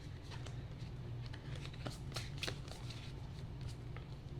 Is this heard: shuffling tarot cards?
yes